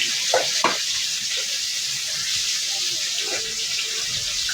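Stinging catfish (shing fish) frying in a pan, a steady bright sizzle throughout with a couple of sharp pops and splatters near the start, close and continuous.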